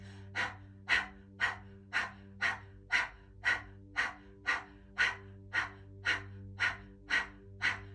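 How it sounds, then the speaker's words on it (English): During a breathing exercise, someone pants like a dog with mouth open: about fourteen quick, even, breathy puffs in a steady rhythm, close and clear over a low background hum. "open your mouth and do it like the dog panting again"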